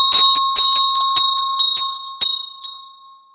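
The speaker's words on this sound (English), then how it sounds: "I'm going to ring my beautiful Tibetan bell here" A Tibetan bell is struck in quick succession, about ten clear metallic rings with long sustained tones that overlap and fade into a final ringing decay.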